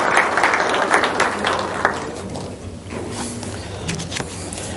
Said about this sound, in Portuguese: Uma salva de palmas pro colega.